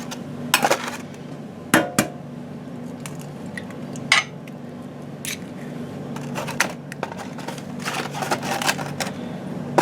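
An egg going into chess bar batter in a bowl, heard as sharp taps and cracks followed by clinking and scraping against the bowl, close and moderately loud, without speech.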